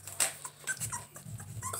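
Two-week-old puppies whimper and yip softly up close, a scatter of thin, high whines and small squeaks at uneven intervals, with no talking.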